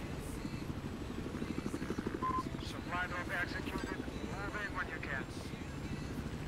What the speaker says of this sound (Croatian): Ali zato ovaj helikopterčić, ja njega obožavam.